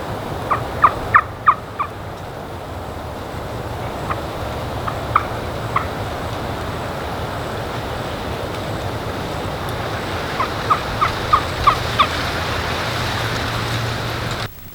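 Several short, bright calls from an Osceola wild turkey sound at a distance over steady outdoor background noise on open palmetto prairie, coming in bursts near the start, midway and toward the end.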